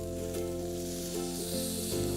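About an inch of butter melting and sizzling in a pan over an open flame, a close, steady hiss with a tonal hum layered underneath, swelling slightly louder toward the end.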